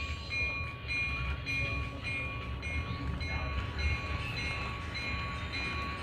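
A model train pulls a CP Rail boxcar and a BNSF boxcar on a layout, giving a steady rolling rumble with a sustained electric whine throughout and no voices.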